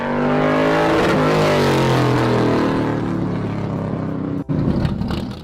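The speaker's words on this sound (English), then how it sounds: "it makes loud noise. It's like running with no mufflers" A car's exhaust runs with open cutouts ahead of the muffler, revving loud and close with a rising then falling engine roar, easing off before a brief cut and a final burst.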